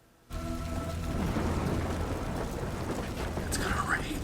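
Steady heavy rain with a low rumble of thunder fills a scene from a TV drama, starting abruptly after a brief quiet moment and holding at a constant wash throughout, with a faint higher call or voice near the end.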